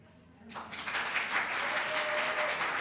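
Applause from an audience at a legislative district election debate breaks out after a brief quiet moment and continues steadily, a broad wash of clapping with some voices mixed in.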